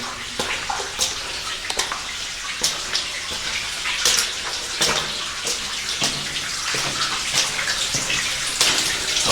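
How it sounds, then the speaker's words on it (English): Water rushes and splashes steadily through a culvert nearby, a continuous gushing flow with irregular splashy bursts throughout. "A little bit more water running through this one."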